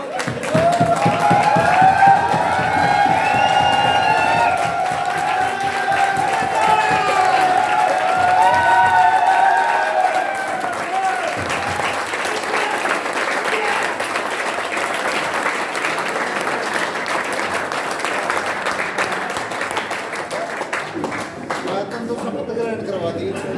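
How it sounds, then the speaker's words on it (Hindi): A large audience at a business motivational seminar breaks into loud, sustained applause, dense clapping mixed with cheers and voices that gradually eases but continues for over twenty seconds. "जोरदार ताली।"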